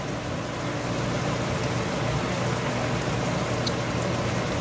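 Steady rain pours down outside during a quick summer storm in Massachusetts, a dense, continuous hiss with a low rumble beneath it, constant and fairly close throughout with no talking.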